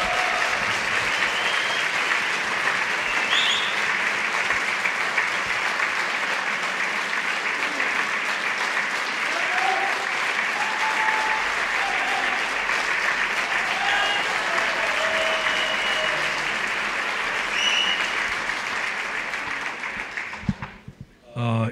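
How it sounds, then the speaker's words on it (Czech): Sustained applause from a concert audience celebrating a singer's 85th birthday, steady and full for about twenty seconds before cutting off abruptly at the end. "Velký potlesk."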